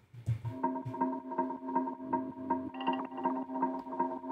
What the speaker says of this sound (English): It's kind of an arpeggiator kind of thing with some effects.